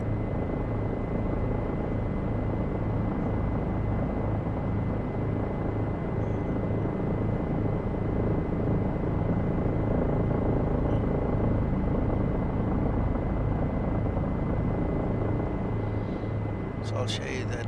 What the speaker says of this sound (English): Love the sound in this helicopter.